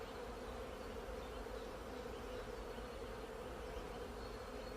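Honeybees buzz steadily around flowers while gathering pollen, a dense, continuous drone at a constant faint level with no pauses.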